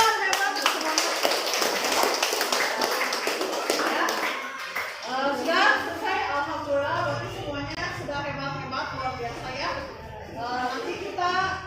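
A classroom of students in an Islamic religious education lesson claps together in a dense burst for the first few seconds, and a teacher's voice then carries on talking with children's voices in the room.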